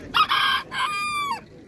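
A rooster crows once at a poultry and small-animal market, loud and close, a clear cock-a-doodle-doo that rises, holds and trails off.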